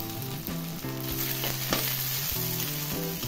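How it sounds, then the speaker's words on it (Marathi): Cumin seeds sizzle and crackle steadily in a hot kadhai while making Kolhapuri kharda, with a few tonal clinks or scrapes over the frying; no voices. "आता हे जिरं आहे ते पण मी ह्यामध्ये टाकणार आहे. ह्याला आता भाजणार नाही, कढई गरमच आहे."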